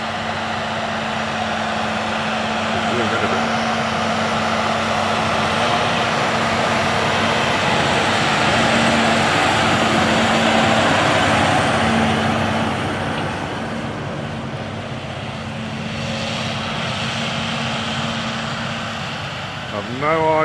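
A tractor engine rumbles steadily nearby, a low drone holding for about twenty seconds as it drives past alongside a back garden, with no talking.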